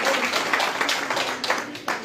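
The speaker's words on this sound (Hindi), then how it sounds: "तालियों से स्वागत" A crowd at a BJP political event in Kathua claps to welcome new members, a dense, continuous patter of applause heard close and fairly loud, with scattered sharper claps and faint voices mixed in.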